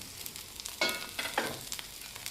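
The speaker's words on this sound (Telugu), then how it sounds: "మరి ఓవర్గా వేగక్కర్లేదు, కొంచెం సేపు వేగితే చాలన్నమాట" Onions and green chillies frying in a pan make a steady, soft sizzle, with a few brief scraping stirs rising above it, close and low in level.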